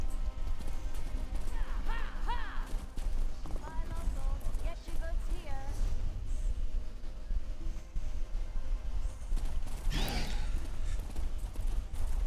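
Video game horse hooves clip-clop at a gallop under continuous game ambience, with occasional whinnies and other game sounds, fairly faint throughout.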